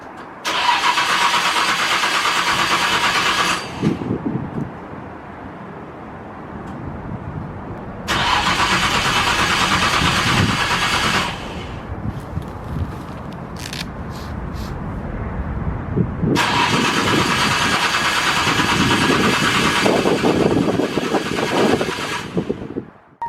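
Nissan R34 engine cranking without catching: three long bursts of starter whirring separated by quieter pauses, close and loud with no voices.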